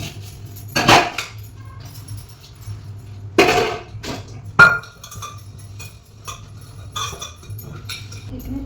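Dishes being scrubbed and rinsed at a home sink: sharp clinks of steel pots, glass and utensils knocking together in scattered bursts over a low steady hum.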